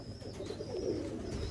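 Breeder pigeons cooing softly and steadily for a moment, a low murmuring burble with faint background hiss and no talk.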